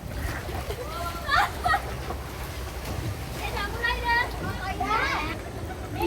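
People splash about in an outdoor swimming pool, the water sloshing and slapping steadily while voices chatter and call out over it.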